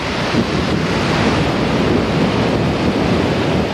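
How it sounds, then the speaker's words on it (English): High Atlantic surf rolls in off the Charleston coast, a loud, continuous wash of breaking waves mixed with buffeting wind noise on the microphone, with no voices. "As surfers enjoyed the high waves off the coast"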